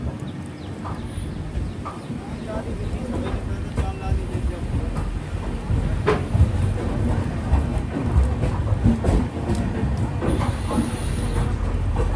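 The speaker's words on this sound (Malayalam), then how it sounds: "ട്രെയിൻ ഇപ്പോൾ രത്നാഗിരി റെയിൽവേ സ്റ്റേഷനിലേക്ക് എത്തിയിരിക്കുകയാണ്." A Mangala Lakshadweep Express train rolls into Ratnagiri railway station with a steady rumble and clattering of wheels and carriages, close and fairly loud, with scattered clacks and station bustle throughout.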